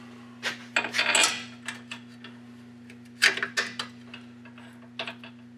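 Metal bolts for a 2007 Chevy Silverado wheel bearing job clink and rattle as they are handled and started by hand, a close, irregular scatter of sharp metallic taps and jingles over a steady low hum.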